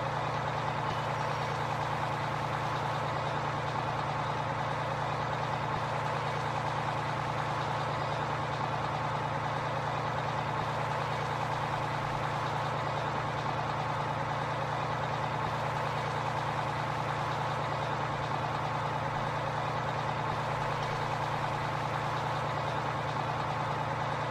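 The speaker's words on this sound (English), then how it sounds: "These trucks can definitely cruise, that's for sure." A heavy truck engine drones steadily while cruising in Farming Simulator 15, with a constant low hum and mid-range mechanical whine that hold level and unbroken for the whole stretch, and no speech over it.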